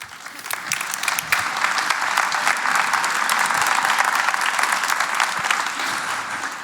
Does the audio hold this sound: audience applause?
yes